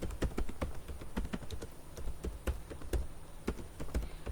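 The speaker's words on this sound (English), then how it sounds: "I am typing a Kudumbashree initiative" Fast, irregular keystrokes on a computer keyboard while entering text in a graphics tool, sharp close taps with short pauses and no voices.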